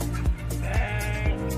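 A sheep at a ranch in Lembang, Bandung bleats in a long, wavering cry, close and clear over a steady outdoor background murmur.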